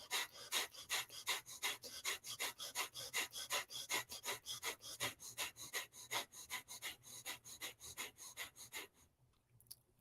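Rapid, forceful breathing during a morning meditation exercise, about four close breaths per second in a steady rhythm for nine seconds, then stopping into near silence.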